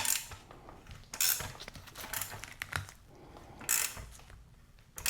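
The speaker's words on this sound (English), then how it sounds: "I'm gonna tighten this one on my left" Wrench work tightening the axle nut on an old Huffy bicycle wheel: close, irregular metallic ratcheting and clicking bursts, with brief quieter gaps between turns.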